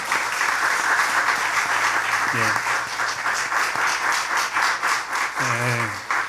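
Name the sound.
congregation applause in church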